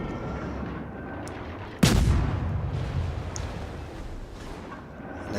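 A single loud, sudden boom of naval gunfire from a Tier 4 German destroyer, the V-170, in the World of Warships video game, with a rumbling tail that fades over a steady background of ship and sea noise.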